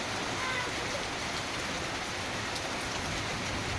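Steady rain pours down outside a rural home doorway in Bengal, a faint, even hiss of falling water that continues without a break, with no voices.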